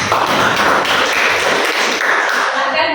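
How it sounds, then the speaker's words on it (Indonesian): A class of students clapping hands in applause inside a classroom, a dense burst of close, fast claps that carries on for about three seconds and then thins out at the end. "Tepuk tangan buat Rana."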